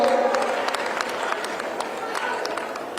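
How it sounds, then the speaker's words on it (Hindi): Spectators applaud at a women's wrestling bout at a state sports event, a dense crowd clapping that starts strong and then holds steady at a moderate level, with crowd murmur underneath. "और मैं पब्लिक से भी कहूंगा एक बार इनकी कुश्ती में तालियों के साथ इनके साथ सम्मिलित"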